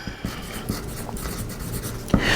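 Marker or pencil scratching a line onto a sewing pattern piece for placing a zipper on a peplum top, a steady dry rubbing with a few light taps, close and alone.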